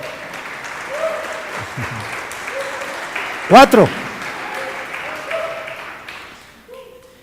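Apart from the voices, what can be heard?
applause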